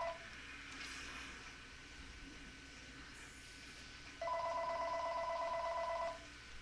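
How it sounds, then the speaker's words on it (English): A telephone rings in the room, with a steady two-tone electronic ring that starts partway through and keeps going to near the end over quiet background noise. An earlier, fainter tone is heard at the start. "By the way, there's a phone, and it's certainly being obnoxious today."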